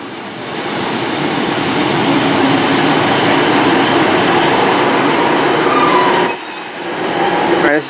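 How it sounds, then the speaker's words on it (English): A Class 150 First Great Western diesel train departs Yatton station, its loud rumbling wheels and engine roar rising and staying steady close by, with a brief dip near the end. "this is footage of the Cardiff Central service from Taunton departing. Class 150 First Great Western service."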